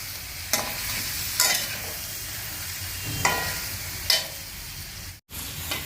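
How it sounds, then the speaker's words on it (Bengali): Cubes of paneer fry in a pan with a constant close sizzle, broken by several sharp scraping stirs and a brief drop in sound near the end. "এবার পনিরগুলোকে হালকা ব্রাউন করে ভেজে নেবে।"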